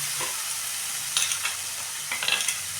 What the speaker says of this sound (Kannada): ಬೆಂಡೆಕಾಯಿ ಹುರಿದಿದ್ದು ನಾನು ಹಾಕೊತಾ ಇದ್ದೀನಿ